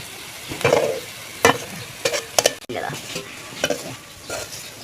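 Onion frying in a pan until golden brown for village-style maswadi: a steady sizzle punctuated by repeated loud scraping and clanking strokes of a spatula stirring, close and uneven in rhythm.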